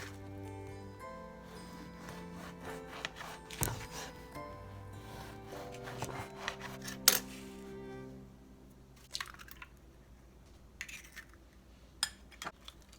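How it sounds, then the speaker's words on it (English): A knife saws through a loaf of French bread on a wooden board with soft, repeated scraping strokes. Light taps and clinks of kitchen utensils break in now and then, all quiet and close. "I'm just going to cut the French bread up."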